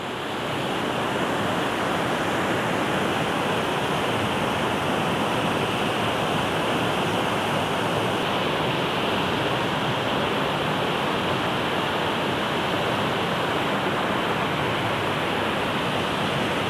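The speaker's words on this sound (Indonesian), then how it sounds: "air yang dari waduk Benanga itu kemudian akan mengalir ke arah Sungai Karangmumus" Water pours from the Benanga reservoir dam toward the Karangmumus river, a loud, steady roar of rushing flow that fills the whole stretch without pause or voices.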